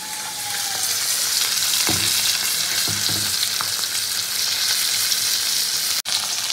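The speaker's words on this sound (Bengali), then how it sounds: "তো মাছগুলোকে হালকা করে ভেজে নিয়েছি" Fish pieces fry in a hot pan with a steady, loud sizzle that holds throughout, broken by a few soft clinks of a utensil and a brief pause near the end.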